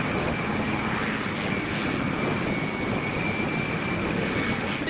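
A pair of Puma helicopters come in to refuel, producing a loud, steady rotor and turbine roar with a constant high whine on top, close and unbroken for the whole stretch, with no talking.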